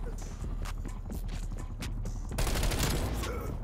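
Rapid gunfire from an aim-assist-style assault rifle in Black Ops Cold War, a dense rattling burst that swells louder near the end over game clatter and faint background voices.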